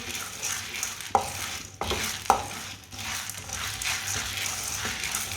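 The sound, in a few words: stirring and roasting dal (lentils) with a spoon in a pan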